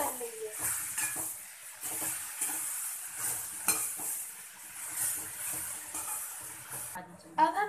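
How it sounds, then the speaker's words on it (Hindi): Bottle gourd frying in a pan while a spoon stirs it, a crisp sizzle broken by repeated scraping strokes and light clinks of metal, close and fairly loud, ending with a sharper clatter. "अब हम इसमें लौकी डाल देंगे और अब हम इसे अच्छे से फ्राई कर लेंगे"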